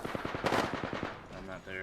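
Automatic weapon fire from an Apex Legends match rattles in rapid bursts, dense and close, with a brief lull near the end as game sounds continue.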